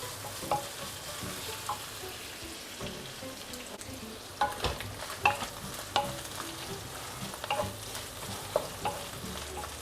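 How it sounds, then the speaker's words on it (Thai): Sweet-salty pork sizzling as it fries in a pan, with a utensil stirring and scraping it in irregular clinks and scrapes over a steady crackle, close and moderately loud, with no talking. "เดี๋ยวเราจะทอดอย่างนี้ไปเรื่อย ๆ นะครับ คอยคนตลอดเวลานะครับ"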